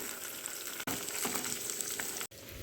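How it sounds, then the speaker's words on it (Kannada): Paneer cubes fry in hot oil in a pan, giving a steady, dense sizzle that runs close and loud throughout, broken by two brief dropouts. "ಪನ್ನೀರ್ ಕರಿಯೋಕ್ಕೆ ಕಾದಿದೆ, ಪನ್ನೀರ್ ಕರಿತಾ ಇದ್ದೀನಿ"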